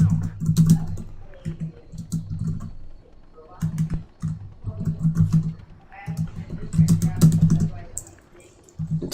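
Fast computer keyboard typing during live game chat in a team shooter, rapid clustered clicks in bursts with brief pauses, heard beneath someone talking over low game sounds.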